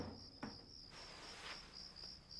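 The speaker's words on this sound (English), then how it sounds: "Crickets are trying to drown out the soundtrack." Crickets chirp steadily in a movie soundtrack, a continuous high pulsing trill at moderate level over a faint background, with no talk.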